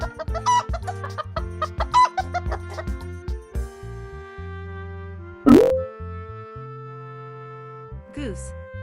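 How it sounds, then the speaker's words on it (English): A hen clucks in short repeated bursts at the start, close and clear over bouncy background music, followed by a swooping sound effect and a final springy boing. "Chicken."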